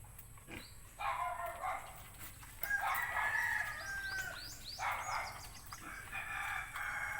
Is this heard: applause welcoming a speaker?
no